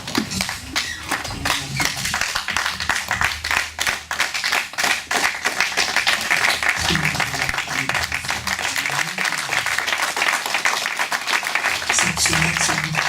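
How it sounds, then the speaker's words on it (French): Church congregation on its feet, clapping and applauding loudly for the Lord Jesus, a sustained rhythmic burst of many hands with scattered voices and music underneath. "Est-ce que nous pouvons nous lever et acclamer le Seigneur Jésus?"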